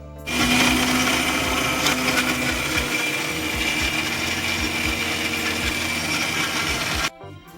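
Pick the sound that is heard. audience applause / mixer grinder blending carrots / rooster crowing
mixer grinder blending carrots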